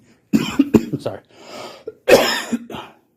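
A few short coughs close by, mixed with a brief apologetic spoken phrase.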